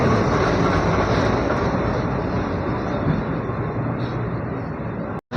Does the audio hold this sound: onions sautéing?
no